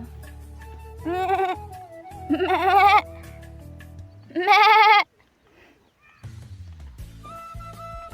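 A person imitates a goat, giving three drawn-out, wavering bleats in a row, followed by some low, indistinct sounds afterward.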